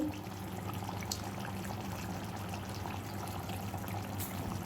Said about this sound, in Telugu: తిప్పినాక కొంచెం వాటర్ పోసుకోవాలండి. వాటర్ పోసుకొని కలుపుకొని